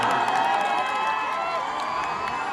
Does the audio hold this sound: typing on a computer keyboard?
no